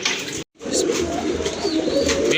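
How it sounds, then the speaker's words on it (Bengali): A pair of nun pigeons coo in low, throaty, repeated calls close by, alongside softer bird sounds after a brief silent break, with no talking. "প্রথমে আপনারা দেখতে পাচ্ছেন এক জোড়া নান কবুতর"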